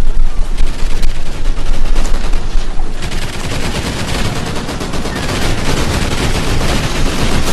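Loud, dense automatic gunfire from Call of Duty: Ghosts Extinction mode while defending a turret, with rapid overlapping bursts that fill the whole clip without pause.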